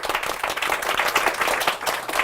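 Audience applause for the two MCs at the close of a CEO talk event, a dense, steady clapping from a small room crowd with no talk over it.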